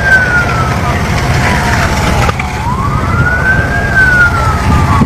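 A fire truck's wailing siren rises and falls over loud engine and traffic rumble, sounding fairly close, at a fire at NAIA Terminal 3 airport in Manila.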